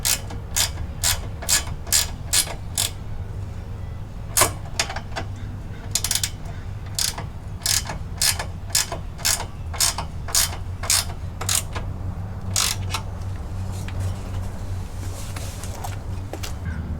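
A ratchet wrench clicks in quick bursts as step brackets are bolted onto a Jeep Gladiator, with repeated runs of sharp ratcheting close by and short gaps between them.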